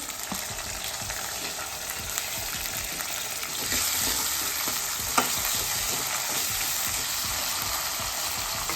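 Green chillies and tomato frying in a pan, a steady broadband sizzle with scattered stirring scrapes throughout, close and moderately loud, growing slightly fuller midway, with no voices.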